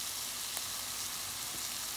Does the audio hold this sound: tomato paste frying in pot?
yes